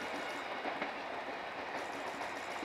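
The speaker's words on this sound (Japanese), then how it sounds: "見たことない電車が割と来るんだね。" An electric train rumbles past at a distance through hilly country near Tabaruzaka Station, Kumamoto, a steady hum of wheels and rails with soft rhythmic clacking, fairly faint and continuous.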